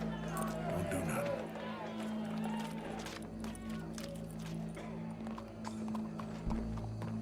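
Horse hooves clip-clop at a steady gait in the video game Red Dead Redemption 2, a continuous rhythmic patter beneath characters talking and a low game soundtrack drone.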